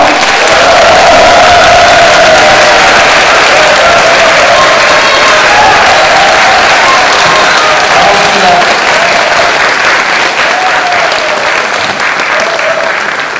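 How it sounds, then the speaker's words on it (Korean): A packed hall in Andong erupts in loud, sustained applause and cheering to welcome Seongnam mayor Lee Jae-myung to the stage. Dense clapping and scattered shouts continue steadily for over thirteen seconds. "이재명 성남시장을 여러분의 뜨거운 박수로 모시겠습니다"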